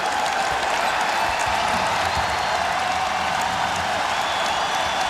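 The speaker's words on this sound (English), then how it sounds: "Listen at this Laker crowd." Lakers home arena crowd at an NBA game against the Suns roars and applauds in a loud, continuous wash of cheering that holds steady throughout.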